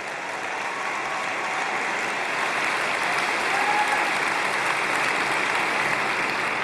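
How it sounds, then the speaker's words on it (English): A large audience applauds at a political conference, a dense, steady wash of clapping that holds loud and even throughout. "Well, you can applaud Esther."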